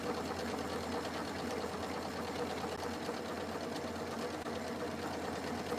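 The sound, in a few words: sewing machine stitching decorative stitch on tea towel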